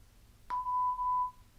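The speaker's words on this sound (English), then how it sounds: "you'll hear it beep 3 times" A sharp click, then a single clear electronic beep from a tractor GPS steering display, held steady for about a second in a quiet setting.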